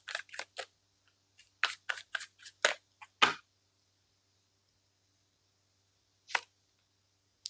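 Tarot cards shuffled and snapped by hand in a quiet room, a quick cluster of crisp papery flicks and riffles followed by a pause, then a single sharp card slap near the end.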